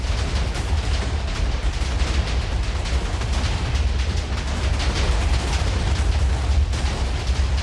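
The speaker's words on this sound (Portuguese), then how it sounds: "O Elquact observava toda a explosão com um sorriso no rosto" Rumbling in-game explosion on a Minecraft server, a dense continuous roar with crackling bursts holding steady and loud for the whole stretch, with no voices.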